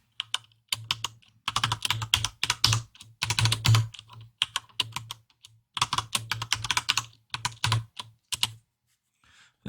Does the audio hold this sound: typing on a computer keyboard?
yes